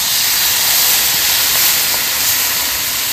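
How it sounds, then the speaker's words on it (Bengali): Water poured into a hot pan of fried tomatoes with turmeric and salt erupts into loud, continuous hissing steam and sizzle, close and steady throughout with no voices. "এবার জল দিয়ে দেবো।"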